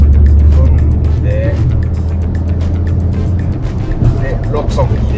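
A Honda N-ONE RS with a six-speed manual gearbox hums steadily at highway speed, with a constant low engine and road drone close by and someone talking over it.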